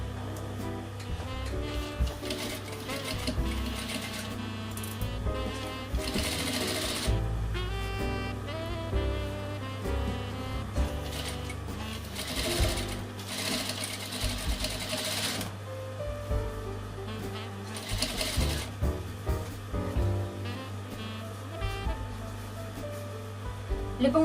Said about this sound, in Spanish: Voy a seguir cosiendo todo el mantel.